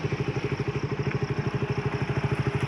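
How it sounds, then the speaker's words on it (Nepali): A motorbike engine idles close by in a wooded outdoor spot, giving an even, rapid chugging pulse that holds steady throughout, heard on its own. "बाइक स्टार्टमै छ"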